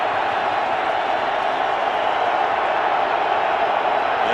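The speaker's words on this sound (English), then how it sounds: "And not easy to hear when this crowd is loud." A loud NFL stadium crowd roars steadily at the Giants vs. Vikings game, a dense continuous wash of noise with no breaks.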